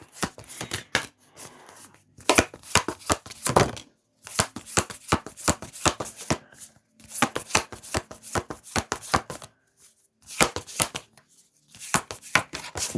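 Mary Magdalene Oracle card deck being shuffled by hand, rapid close riffling clatters in repeated bursts separated by brief pauses, with no talking.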